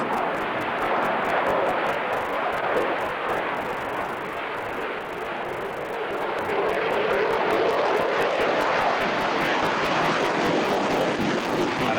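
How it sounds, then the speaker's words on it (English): A prototype military jet at the Farnborough airshow roars with full afterburner, accelerating hard into a tight turn; a loud, continuous broadband engine blast sustained for the whole stretch, with no voices. "And then full reheat, which lights immediately into a tight turn."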